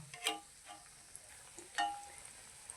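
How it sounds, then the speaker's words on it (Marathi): Quiet frying of bread patties and cutlets in oil in a kadhai, with faint sizzling and a few soft clicks and scrapes from a slotted spoon, no voices. "दोन्ही साईडने व्यवस्थित असं तळलं जातं"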